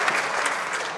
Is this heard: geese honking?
no